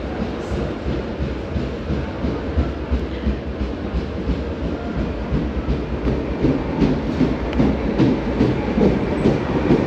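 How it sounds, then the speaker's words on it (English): A passenger train bound for Malaga Central rolls along the rails, a steady loud rumble with rhythmic clickety-clack of wheels over joints and a faint squeal, continuous throughout with no talking. "This is the 520 train to Malaga Central."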